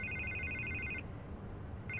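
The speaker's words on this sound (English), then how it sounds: "I can't get the phone to stop ringing." A telephone rings in the Batman Telltale Series video game, a steady electronic trill that breaks off for a moment then starts again, faint over a low background hum.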